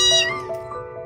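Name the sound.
trapped kittens meowing for help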